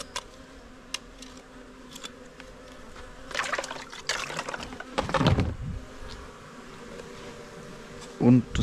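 Honeybees buzz around Apidea mating boxes during hive work, a faint steady drone with a few louder passes up close and some brief handling noises, no one speaking.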